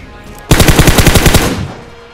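Rapid automatic gunfire in a 4S Gladiator video game match: a loud, close burst of about ten evenly spaced shots that stops abruptly and leaves a short decaying tail.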